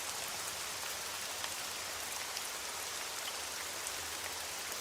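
Rain falls steadily as a dense, even hiss of drops on surfaces, continuous and moderately loud with no voices.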